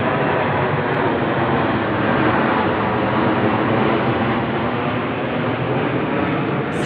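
A patrol plane passes right overhead at night, giving a loud, steady, broad engine drone that holds at the same level for about seven seconds, with no one speaking.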